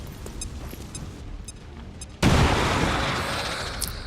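A grenade explodes in XCOM 2 with a sudden loud boom after a quieter stretch, followed by a long rumbling, crackling decay.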